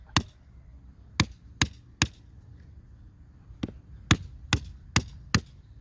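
A wooden stake is driven into the ground in a wild vegetable garden plot, sharp hammer blows landing in two bursts of four and five strikes with short pauses, close and clear.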